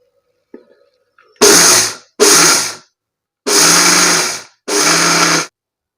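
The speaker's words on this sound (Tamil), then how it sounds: "1 மணி நேரமாக ஊற வச்ச இந்த கம்பு மிக்ஸி ஜாரில் போட்டு கொரகொரப்பாக அரைச்சிக்கலாம்." A mixer grinder coarsely grinds soaked pearl millet, whirring in four short bursts, each about half a second to a second long with brief pauses between, loud and close.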